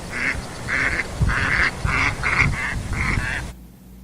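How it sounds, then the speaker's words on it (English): Ducks on a large river quack in a quick rhythmic series of about eight nasal calls, fairly close, over low background rumble, stopping abruptly near the end. "There were ducks in a large river."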